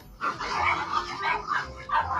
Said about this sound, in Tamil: நாய்ங்க எப்பவும் கேட்டுக்கு இந்த பக்கம் தான் அதுங்க வீரத்தை காட்டும்.